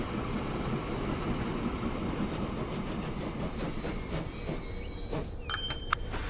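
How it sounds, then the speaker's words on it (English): A coal train pulling into a station in Transport Fever 2, a steady broadband rumble of rolling wagons with rising metallic wheel squeal and faint high whines near the end, plus a sharp click at the close. "Let's find out as our coal train comes into the station."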